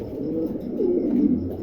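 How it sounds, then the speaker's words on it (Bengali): Trumpeter pigeons coo in a loose, continuous run of low warbling notes, fairly close and steady, with no voices over them. "টাম্পিটার আছে, 7 পিস কবুতর আছে"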